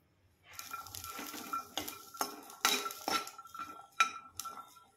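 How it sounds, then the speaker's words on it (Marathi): Green chickpeas roasting in a hot kadhai, stirred with a metal spoon that scrapes and clinks against the pan in a steady irregular rhythm, close and fairly quiet. "दोन तीन मिनिट आपण हरभरे छान भाजून घेऊ"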